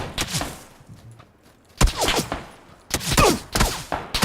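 Gunfire in the battle royale video game PUBG, several sharp bursts of rapid shots in clusters separated by short pauses, loud and close, with no talking over them.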